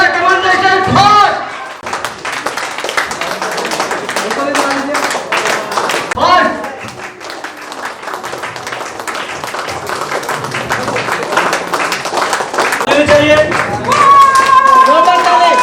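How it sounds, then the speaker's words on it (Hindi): Audience clapping at a hotel programme in Bodh Gaya, a dense patter of applause under music while a host talks over it throughout. "जोरदार ताली होनी चाहिए, जोरदार ताली"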